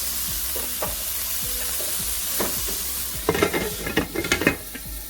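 Pork sizzles steadily in a hot pan for Thai fried rice, with a constant frying hiss broken by stirring scrapes and clinks of utensils against the pan, growing busier in the second half.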